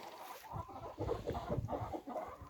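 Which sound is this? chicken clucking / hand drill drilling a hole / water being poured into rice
chicken clucking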